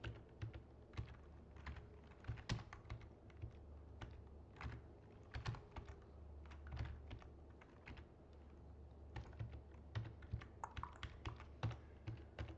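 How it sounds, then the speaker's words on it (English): Computer keyboard keys tapping in quick, uneven bursts of sharp clicks during a live game of Dungeon Crawl Stone Soup, fairly close and alone, with brief pauses between runs of keystrokes. "keys tapping at this point"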